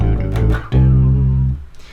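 Electric bass plays a short melodic phrase in A harmonic minor, a few close, clear notes with a long sustained tone in the middle, alone and without voices.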